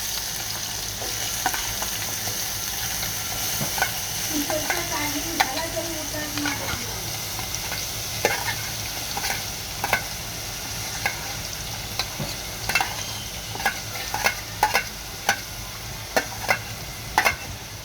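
Chopped onion sautéing in a hot pan with steady frying sizzle throughout, broken by repeated sharp clinks and scrapes of a spoon stirring against the pan, growing more frequent toward the end; no one talks.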